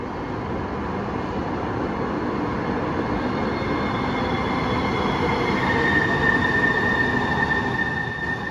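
A Siemens S700 light rail train on Seattle's Link line rumbles steadily from inside, with a thin wheel squeal rising late in the ride.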